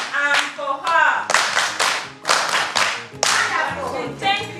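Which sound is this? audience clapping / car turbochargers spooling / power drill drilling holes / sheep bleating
audience clapping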